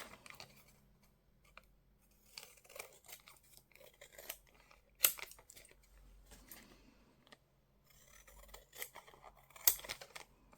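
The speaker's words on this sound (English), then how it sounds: "let's cut around the edges and let's see what we have." Scissors snip around the edges of a paper junk mail envelope in irregular bursts of close, crisp cuts with a few quiet pauses and rustles of paper between them, no voices.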